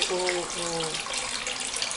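Water moves steadily in a small indoor winter-garden fish pond, giving a continuous, close, even rush of trickling and splashing. A voice is briefly heard over it at the start.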